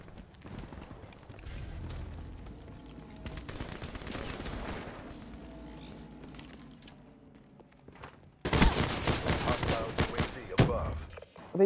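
Gunfire from shotguns and pistols in a Black Ops 3 multiplayer match, with scattered shots early and a loud, dense burst of firing in the final seconds, mixed with game sounds and talk.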